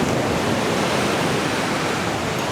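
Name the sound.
waves on a wide Florida beach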